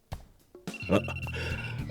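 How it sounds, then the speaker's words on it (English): A telephone rings with a bright electronic tone over soft background noise and a few faint knocks, moderately quiet and fairly close. "then someone's phone started ringing"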